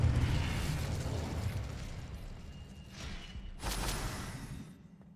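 Incendio fire spell cast in the Hogwarts Legacy video game, a sustained roaring, crackling blast of flame with a second bright whooshing burst near the end before it fades out.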